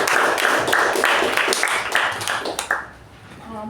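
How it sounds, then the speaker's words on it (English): A small meeting audience claps for a speaker in a steady, moderately loud patter of hands that fades out after about three seconds. "Let's give her a huge round of applause."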